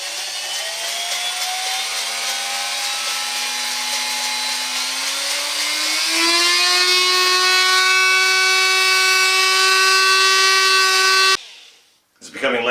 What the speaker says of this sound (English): Dremel in my right. So the plan is, as this thing rotates around, I'm going to take a little bit of skin off that there